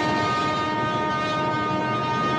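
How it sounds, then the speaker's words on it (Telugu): An approaching train sounds a long, sustained horn over the rumble of its running, loud and unbroken throughout. "అదిగో రైలు వస్తుంది."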